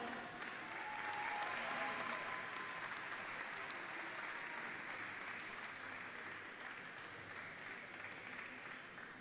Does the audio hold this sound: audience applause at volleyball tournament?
yes